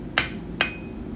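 Two sharp metallic hammer strikes ring out close by, about half a second apart, as a hammer textures forged metal for a wine or whiskey bottle holder, with the second blow leaving a brief ringing tone.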